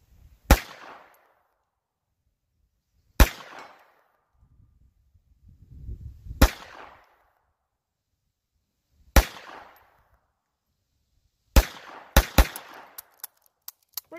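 Sharp single gunshots from a Walther pistol with a small barrel crack out at spaced intervals, each with a short echoing decay, ending in a quicker cluster of shots and faint clicks, with quiet rustling between.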